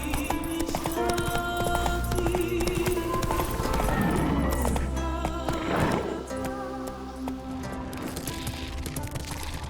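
A horse gallops in The Witcher 3 video game, rapid rhythmic hoofbeats pounding close and loud throughout, with game music or ambience underneath.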